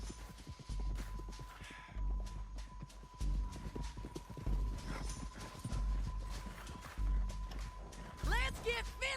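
A horse gallops with rapid rhythmic hoofbeats in Red Dead Redemption 2, joined by snorts and a whinny near the end, mixed under game noise and voices.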